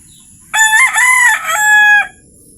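A Texas chicken in a backyard farm gives one loud, close crow lasting about a second and a half, wavering slightly in the middle before cutting off, with quiet background around it.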